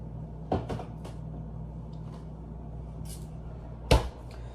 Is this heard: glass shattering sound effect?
no